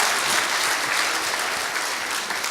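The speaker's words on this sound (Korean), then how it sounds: "우리 다 함께 하나님께 영광의 박수를 돌리겠습니다." A congregation at a 2019 Easter joint worship service claps together in thick, continuous applause that fills the whole space evenly from start to finish.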